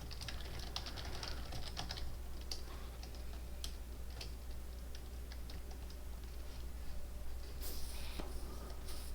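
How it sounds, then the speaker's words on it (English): Light, irregular clicks of typing on a computer keyboard come in scattered bursts over a quiet background hum during an online Avalon tournament game, with no talk. "I'm going to type in this."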